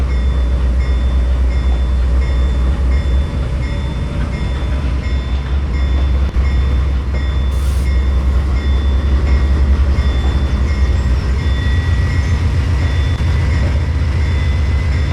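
A long 27-car train in a railway simulation game rolls steadily along the track with a constant low rumble and droning hum, unbroken for the full stretch.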